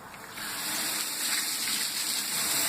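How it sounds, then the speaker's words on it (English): Crushed grain, 11 pounds of it, poured into a brewing kettle holding strike water and a grain bag for an IPA, making a continuous rushing, gushing hiss that swells after a quiet start and stays steady and close. "I'm going to get the grain in here, start dumping."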